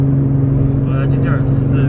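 Nissan GT-R drives past at a car show, a steady low engine drone with a brief rise in road noise midway, close and continuous over the whole moment.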